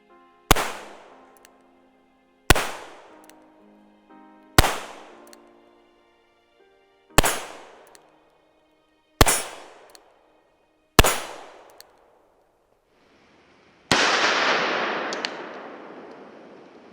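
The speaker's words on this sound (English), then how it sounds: "let's go ahead and put some shots down range" Seven sharp gunshots from an 1895 Nagant revolver fired in single action, spaced about two seconds apart, each with a short decaying echo, the last one followed by a longer broad noisy burst.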